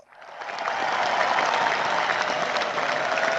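A round of applause on a radio sports show swells in quickly and holds as a dense, loud, even roar of clapping.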